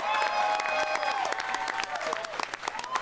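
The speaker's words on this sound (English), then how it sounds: "let's give both fighters a big round of applause" Crowd applause and some cheering for two MMA fighters after three rounds at a live event, brisk clapping with sharp hand claps near and fainter clapping farther off, over a sustained tone in the arena.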